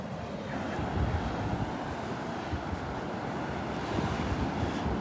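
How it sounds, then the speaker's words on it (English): Ocean waves break on the outer edge of a sandbar during a morning walk at Delnor-Wiggins beach. The surf keeps up a steady, dense roar, with wind buffeting the microphone and no voices. "Those are some nice sized waves breaking out there on the outer edge of the sandbar."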